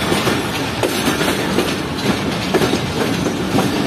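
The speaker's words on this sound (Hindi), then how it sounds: "ये हमारी ट्रेन 9:24 पर लग रही है रावलपिंडी रेलवे स्टेशन के प्लेटफॉर्म नंबर 3 पर," Pakistan's first privatized rail car rolls into platform 3 at Rawalpindi railway station, its steady rumbling roar broken by rhythmic clickety-clack of wheels over rail joints, loud and close throughout.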